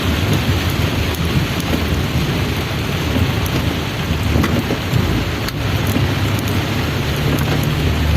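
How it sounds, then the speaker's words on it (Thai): Heavy rain pours down steadily on a Thai village housing estate in Samut Prakan, a dense, loud, unbroken roar of water hitting surfaces, with faint rumbles underneath and no talking. "ฝนเทกระหน่ำในหมู่บ้านนันทวันศรีนครินครับท่านผู้ชม แรงและหนักมาก ๆ เลย"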